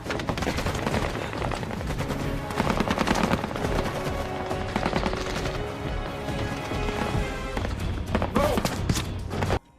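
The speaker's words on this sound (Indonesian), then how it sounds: "Baku tembak pun kembali terjadi." Film battle between militants and royal troops: loud, dense bursts of machine-gun and rifle fire with thumps and impacts, continuous and overlapping throughout, ending abruptly.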